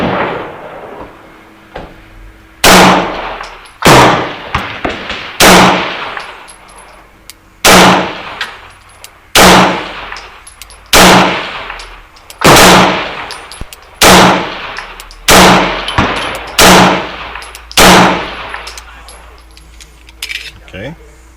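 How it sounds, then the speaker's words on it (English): Sharp, loud gunshots from a 1911 pistol at a shooting range, fired one at a time in a steady series of about fourteen shots, each followed by a short ringing decay. "Let's shoot at the top right target."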